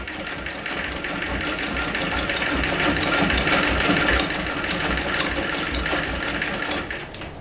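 A vintage Singer 206K sewing machine runs a short zigzag stitch through denim, its steady mechanical chatter holding a continuous, even rhythm close by without pause.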